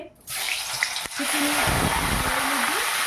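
Boiled jackfruit and potato pieces dropped into hot oil, giving a steady close sizzle and crackle that starts abruptly and carries on evenly.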